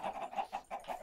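Short bursts of clucking from chickens by a coop in Minecraft Pixelmon, several quick calls in a row, fairly quiet and unaccompanied by speech.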